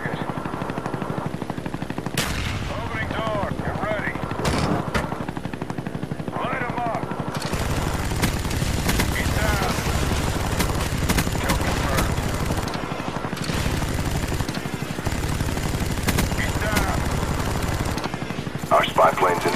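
Gunfire from a Huey helicopter gunship in Call of Duty: Black Ops, with dense, sustained bursts of rapid shots and booming impacts over continuous game noise, and game voice lines speaking between volleys.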